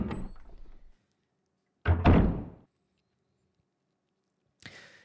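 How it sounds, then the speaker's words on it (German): Door opening in the video game Resident Evil Remake: a short burst of clatter, then after a pause a heavy double thunk and rumble of the door, followed by a softer creak near the end, with no talk. "Ach so, der Türgriff wurde repariert."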